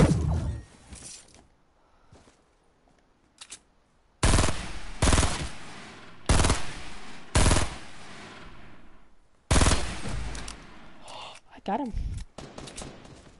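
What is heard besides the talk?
gunfire in video game Fortnite Save The World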